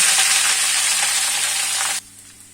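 Jackfruit pieces drop into hot oil already holding cumin seeds and a torn bay leaf, setting off a loud, close, steady sizzle that cuts away sharply near the end, leaving only a faint low hum.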